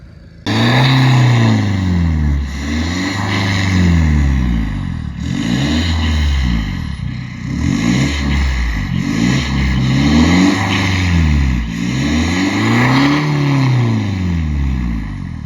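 A Mahindra XUV500 with a muffler-deleted straight-pipe exhaust revs repeatedly, loud and close, each blip rising to a raw, throaty roar and falling back to a rumbling idle in a rhythmic cycle.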